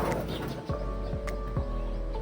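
Pigeons in a breeder loft with newly hatched squabs, giving soft chirps and low coos against a steady low background hum, with faint clatter throughout.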